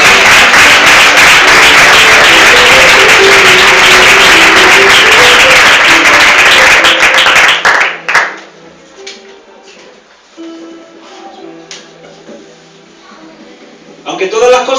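Church congregation in Madrid applauding loudly and steadily for about eight seconds, then fading out into quieter room sounds with a few scattered noises.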